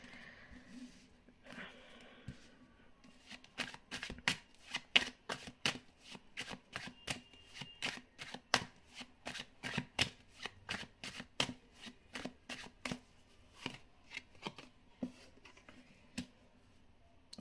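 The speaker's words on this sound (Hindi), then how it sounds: "हम यहाँ से भी कुछ कार्ड्स निकालेंगे" Tarot cards are shuffled and drawn, producing a long run of sharp, crisp riffling snaps and flicks in irregular rhythm, close and clear against a quiet background.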